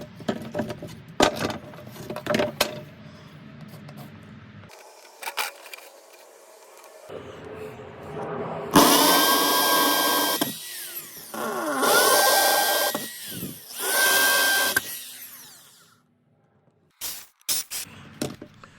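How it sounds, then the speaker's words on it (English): A power drill fitted with a concrete bit pre-drills holes for Durock cement board installation over a wood frame, whining in several loud bursts of varying length separated by pauses, with clattering handling noises in between. "I use a concrete drill bit to pre-drill all the holes."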